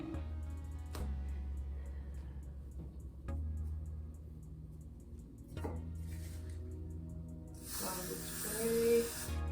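A short hissing spray burst from a can used while installing a wig, coming near the end after quiet thuds and handling noises, fairly close and moderately loud.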